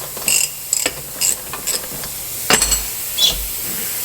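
A V-clamp on a truck air brake chamber is loosened and turned against its aluminum housing, producing a series of short, sharp metallic clicks and scrapes in irregular bursts, close up.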